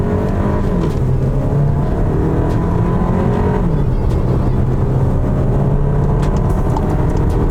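A 2024 VW Tiguan Highline R-Line's 2-liter turbo engine pulls hard on a highway in manual mode. The loud, continuous engine note rises through the gears, with a pitch that climbs and steps down at a shift, over steady road and wind roar.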